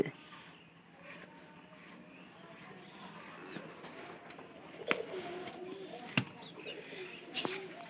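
Pigeons coo softly in low, murmuring calls, with a few sharp knocks and clicks nearby, faint and close in a quiet space.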